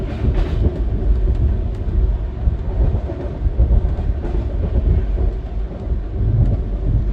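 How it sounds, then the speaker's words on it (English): The Himasagar Express rolls along the rails in India near Itarsi, a continuous heavy low rumble with rattling carriage noise and faint clatter, heard steadily from inside the train. "I am awake as the train approaches Itarsi"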